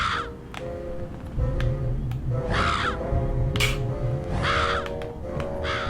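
Crow-like cawing from a bird in the video game Psychonauts, several harsh calls spaced across the clip over a steady game soundscape with low music.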